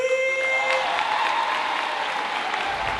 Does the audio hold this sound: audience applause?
yes